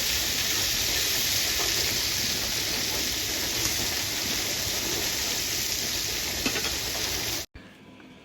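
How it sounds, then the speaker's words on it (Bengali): Jackfruit coated in salt and turmeric frying in oil in a wok: a loud, steady, dense sizzle that continues unbroken, then cuts off abruptly near the end. "এঁচোড়ে লবণ আর হলুদ মাখিয়ে এঁচোড়টাকে আমি সুন্দরভাবে ভেজে নেব তেল দিয়ে"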